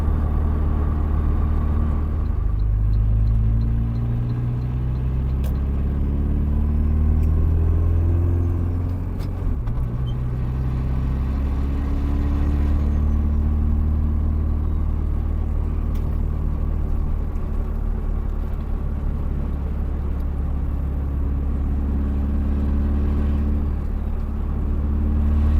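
A Saab 9-5 Aero, rear-wheel drive and running raised base boost, rumbles steadily as its turbos spool up, with engine tones rising and falling in loud, continuous waves throughout.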